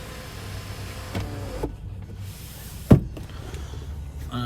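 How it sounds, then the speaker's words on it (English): A one-touch electric sunroof on a 2014 Mercedes CLS350 CDi BlueTec AMG Line opens with a steady low motor whir and a short clunk partway through, then runs quietly on inside the cabin. "It has got a fully electric sunroof with one touch"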